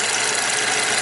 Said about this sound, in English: Jimmy, you can hear the timing chain rattle. I think the tensioner is messed up.